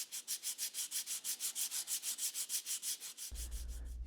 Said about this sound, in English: it comes out of the clamp and gets a quick sanding on each face to make sure the piece is flat